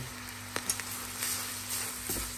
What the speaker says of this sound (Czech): Zamíchám to.